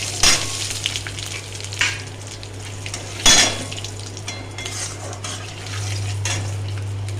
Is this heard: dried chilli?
yes